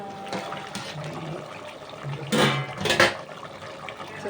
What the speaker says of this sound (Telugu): చెంబు నీళ్ళేనండి, ఇంకేం పొయ్యలేదు, సరిపోతుంది